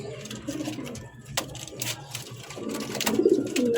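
A racer pigeon offered for sale gives soft, low cooing murmurs close by, mixed with faint background noise and small rustles, with no speech.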